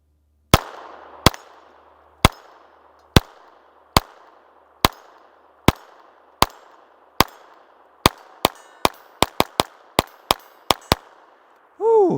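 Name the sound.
SIG P322 Comp pistol precision shooting, slow gunfire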